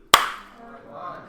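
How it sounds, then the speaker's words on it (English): A teacher claps hands once in a classroom: a single sharp, close clap followed by a short, quiet room tail. "when I clap my hands, you are all going to start counting"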